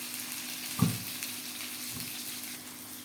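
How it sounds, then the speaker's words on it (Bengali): Tomatoes fry in a pan with a continuous low sizzle. One soft stirring knock comes early, followed by a fainter one, and no one talks. "টমেটোটা একটু নাড়াচাড়া দিই"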